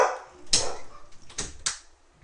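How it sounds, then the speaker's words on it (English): A dog barks three times, sharp and close, in an indoor home setting. Short silent gaps separate the barks, and the last two come quickly one after the other. "the dog's barking"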